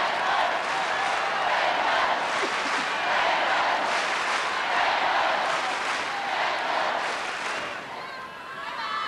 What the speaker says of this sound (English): Listen to the noise the crowd is making right now.